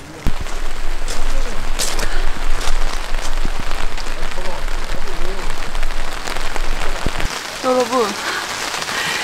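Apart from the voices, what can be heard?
rain falling on a tent while camping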